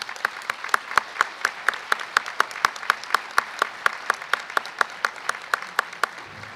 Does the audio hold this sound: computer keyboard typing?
no